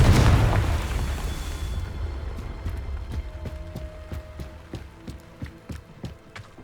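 A Confringo spell explosion in the Hogwarts Legacy video game, a loud booming blast at the start that decays over a couple of seconds, followed by a series of sharp rhythmic clacks and ticks.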